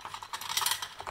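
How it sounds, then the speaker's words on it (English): A camera tripod being unscrewed gives off a faint run of close, quick ratcheting clicks and small metallic turns, lasting about a second with no voice. "Excuse the noise of me on screwing the tripod."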